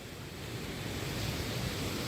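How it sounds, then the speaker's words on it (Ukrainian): A waterfall and small stream flow through a forest in Zhytomyr region, Ukraine, giving a steady, broadband rushing roar that holds even and unbroken throughout, with no voices. "Коротше, тече тут водоспад. Тут тече річечка."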